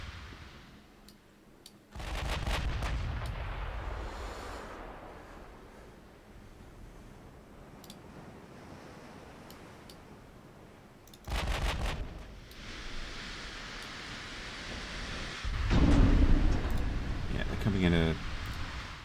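Deep booming blasts of battleship guns in a naval combat video game, several heavy reports with long rumbling tails over a constant wash of sea ambience.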